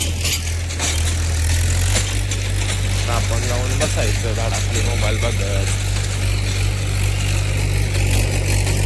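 A farm tractor with a rotor attachment runs throughout as a steady, loud low drone, with people talking over it.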